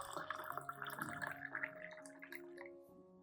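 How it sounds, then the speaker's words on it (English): Hot water is poured onto rice in a glass cup, making a faint, bubbling splash and trickle that tapers off after a few seconds. "Next, add 500 milliliters of hot water to the rice mixture."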